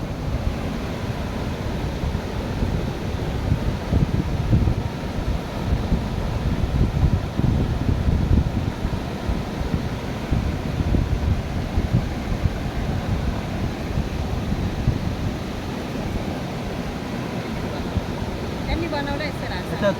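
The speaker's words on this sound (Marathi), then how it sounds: "मस्त स्वच्छ पाणी मागून वाहत आहे आणि काय मस्त खळखळाट आवाज आहे" A clean stream flows beside a dam with a continuous, moderately loud gurgling and rushing wash that holds steady throughout.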